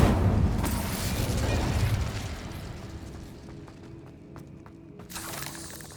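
The Incendio fire spell in Hogwarts Legacy gives a loud whooshing, crackling burst of flame that slowly fades into a quieter rumble, then a brief swell returns near the end, with no speech.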